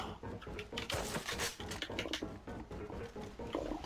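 Steady rain patters throughout in the shooter AVA, a dense continuous hiss with faint irregular taps, fairly quiet and alone.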